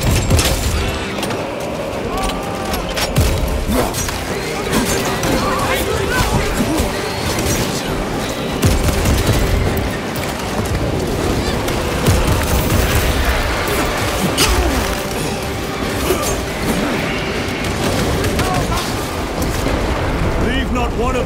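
Airstrike and gunfire in the Space Marine 2 video game, a dense, continuous barrage of booms, blasts and rattling fire that stays loud and crowded for the whole stretch, with a voice speaking over part of it.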